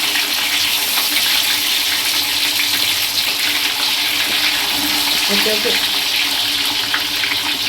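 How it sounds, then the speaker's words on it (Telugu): Fish pieces fry in hot oil for a fish fry biryani, producing a loud, dense, continuous sizzle and crackle close by, with a faint voice briefly under the frying. "ఇప్పుడు నేను చేపని అరవై పర్సెంట్ ఫ్రై చేస్తాను"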